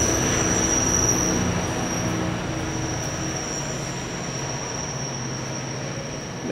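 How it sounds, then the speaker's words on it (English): A GO commuter train rumbles loudly past at close range in Toronto with a steady roar and a high metallic wheel whine, no voices. "That's a GO train."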